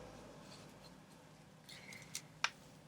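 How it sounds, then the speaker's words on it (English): Scissors make two quick, crisp snips at close range, trimming the end of knitting thread stitched onto a junk journal collage; otherwise only a quiet room hiss. "I'm going to cut that end off"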